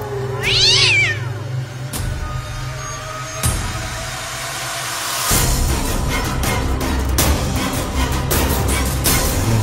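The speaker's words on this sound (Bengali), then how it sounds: "তখনই বাঁশবাগানের ভেতর থেকে শোনা গেল একটা বিড়ালের ডাক।" A cat meows as a sound effect in a Bengali ghost story set in a bamboo grove, with one clear, loud, rising call near the start, followed by sharp knocks and a continuous background bed.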